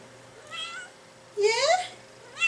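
A pet cat gives two meows, a short soft one followed by a louder, longer rising one, close by in a quiet room, with a faint onset of another sound at the end.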